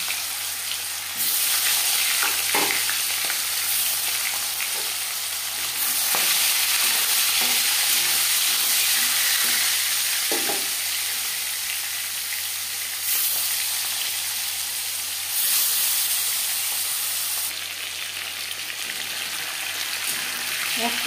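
Marinated boal fish frying in hot refined oil in a pan, a continuous loud sizzle that swells and dips as pieces are added and moved, with scattered clinks and stirring sounds and no speech over it.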